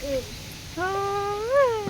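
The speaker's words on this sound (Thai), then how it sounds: "แมวเจ้าบอนี่" A cat meows twice close by, a brief call followed by a longer rising and falling meow, clear over faint background noise.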